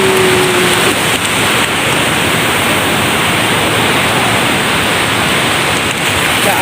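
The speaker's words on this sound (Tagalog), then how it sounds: "Malakas kasi ang alon." Strong surf waves at Bagasbas beach, where surfers are out, give a loud continuous wash of broadband roar with no clear breaks between swells and no talk.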